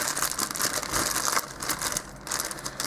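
A plastic bag holding toy tires is pulled open up close, giving loud, continuous crinkling and crumpling with sharp rustling bursts and no talking.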